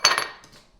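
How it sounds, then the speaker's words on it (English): Roast potatoes, peppers and onions tumble into a non-stick pan, making a brief clattering thud with a quick follow-up knock that fades fast, close and fairly loud. "I'm just going to throw in those roast potatoes that we did"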